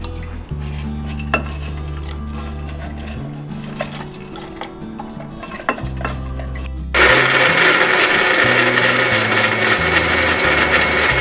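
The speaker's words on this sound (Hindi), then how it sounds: "सारी चीज़ें ऐड करके हमने दोबारा ब्लेंडर चलाया अच्छे से।" Blender whirring loudly for about four seconds as it blends watermelon juice with sugar, fruit syrup and ice, over a steady motor drone with background music. The blend starts partway through and runs steadily to the end.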